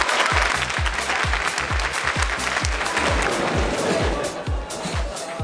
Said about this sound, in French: L'ouverture se fait sous les applaudissements.